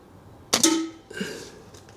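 An AirMaks Katran air rifle fires a single close shot, a sharp crack with a brief ringing tail, followed half a second later by a fainter downrange impact in an otherwise quiet setting.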